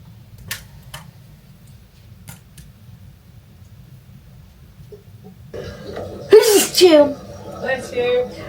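A single sharp sneeze bursts out at close range partway through, followed by a short breathy tail, with quiet room ambience before it and light talk around it.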